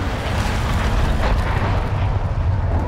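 Cruise missile strikes from a Call of Duty Modern Warfare 3 killstreak roar as a continuous heavy rumbling blast, loud and dense throughout with a rolling low boom and no clear break.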